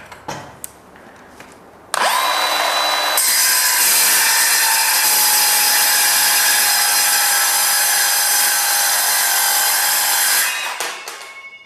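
A cordless 5-inch circular saw spins up and grinds loudly through steel in one long continuous cut, a harsh high whine that winds down at the end.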